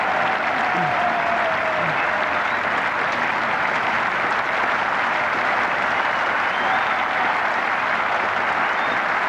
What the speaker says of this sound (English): The England balcony applaud and approve.